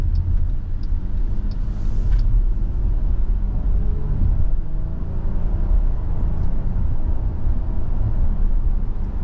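Cabin rumble of a 2024 Jeep Grand Cherokee L Limited 4x4 driving down a road, a steady low road and engine drone that stays even throughout, with no talking.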